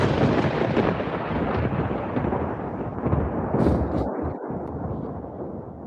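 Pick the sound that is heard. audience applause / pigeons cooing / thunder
thunder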